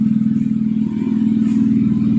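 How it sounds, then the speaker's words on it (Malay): A Perodua Kancil fitted with an AV turbo engine idles close by after starting, a steady low throbbing rumble with a slight dip and recovery, no talking. "Ni lah dia yang kita start enjin"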